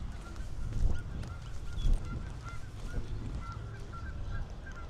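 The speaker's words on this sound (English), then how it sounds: "Some geese." Geese honking at Silver Lake in Los Angeles, repeated nasal calls scattered through the clip at moderate distance over a low outdoor rumble, with no talking.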